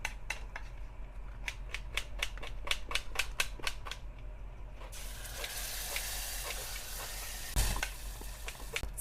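Masala spice mix hits hot oil in a home kitchen pan, first as a run of sharp crackling pops, then a loud, steady sizzling hiss that carries on to the end.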